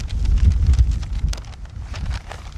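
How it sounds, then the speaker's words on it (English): Wind buffeting a microphone outside St Peter's Church in Paglesham, Essex, a close rumbling gust that swells and eases over a couple of seconds with no speech. "Oh, it's so windy."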